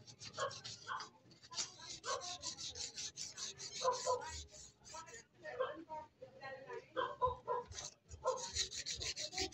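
Sandpaper rasping rust off the steel spokes of a Bajaj CT 100 wheel rim, steady rhythmic scratching strokes close by, with someone speaking over it and a dog barking in the background.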